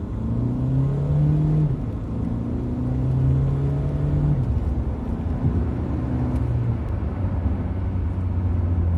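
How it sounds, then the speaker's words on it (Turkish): Hyundai Accent Blue 1.6 CRDi diesel, 136 hp, with DCT gearbox, accelerating at full throttle from a standstill; a loud, steady engine drone climbs in pitch, drops at a gear change, then rises again, heard from inside the car. "Arkadaşlar arkamız şöyle boşalınca bir kalkış yapmak istiyorum."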